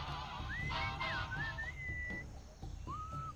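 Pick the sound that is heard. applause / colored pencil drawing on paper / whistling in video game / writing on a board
whistling in video game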